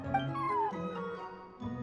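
A cat meows in the Genshin Impact cat event, a rising, wavering call of about half a second, fairly close and mid-loud over soft background game music.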